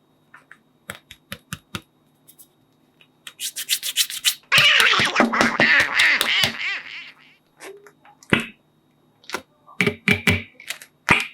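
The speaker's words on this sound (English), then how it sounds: "Quack, quack." A duck quacks in a loud flurry of raspy calls among scattered clicks and taps, close by, with quiet gaps before and after.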